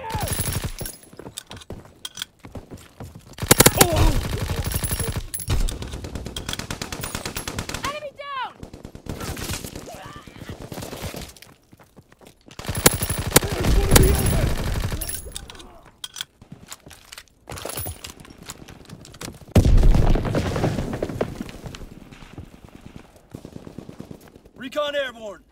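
Gunfire in a Call of Duty: WWII team deathmatch, with bursts of automatic fire and single shots coming in uneven clusters, some loud and close, others farther off, alongside voices.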